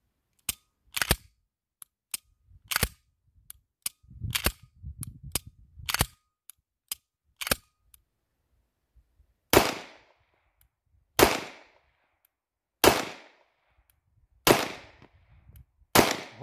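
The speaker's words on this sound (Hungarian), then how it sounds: "amikor teljesen leemelem a billentyűről az ujjam, és így adom le a lövéseket" Pistol shots fired one at a time in a trigger reset drill at a shooting range, a string of sharp, loud cracks with irregular spacing, some close together early on and then more widely spaced single shots with longer ringing tails.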